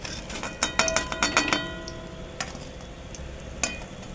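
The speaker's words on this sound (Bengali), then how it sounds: "আর এক পাশটা ঠিক এইভাবে ভেজে তুলে নেব" Stuffed bottle gourd leaves fry in a pan, with a busy run of sharp crackles and spatters early on, then a quieter sizzle broken by a few isolated pops.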